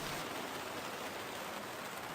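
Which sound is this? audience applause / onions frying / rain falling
rain falling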